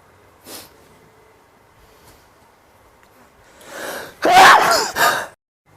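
A single sharp, explosive cough-like burst, loud and close, followed by a short second burst, after near silence with a faint earlier breath.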